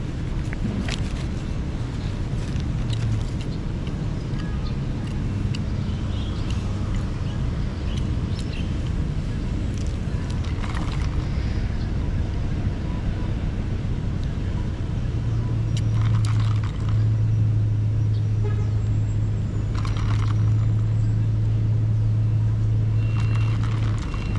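Riding a motorcycle on a road on the way to an airport, with a continuous close engine rumble and road noise, and a steady low hum joining in later.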